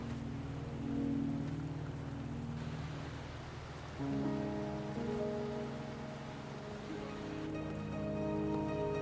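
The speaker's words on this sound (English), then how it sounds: "Are you trapped here by the rain?" Rain in the video game Wuthering Waves, a steady soft patter and hiss that continues throughout, layered under sustained musical tones that shift partway through, with no talking.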